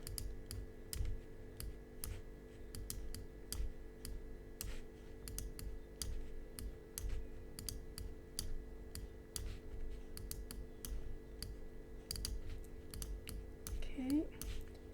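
Rapid computer mouse clicks tick sharply in irregular bursts throughout, close and crisp over a low steady hum, with a brief faint sound near the end.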